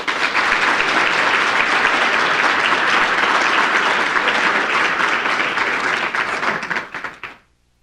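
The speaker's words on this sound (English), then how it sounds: "I'd like to give a round of applause for Steve" Dense, sustained audience applause welcoming panelists onto a stage at a clinical trials and patient panel, loud and even, then fading out quickly at the end.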